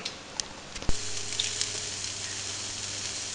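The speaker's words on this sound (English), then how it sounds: "so frying up some onions, and then I'll add some chopped garlic" Steady sizzling of food frying in a pan, a constant hiss with a few small pops and clicks.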